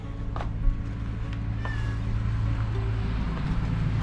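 A cat meows once or twice, fairly faint, beside a canal outdoors, over a steady low rumbling background.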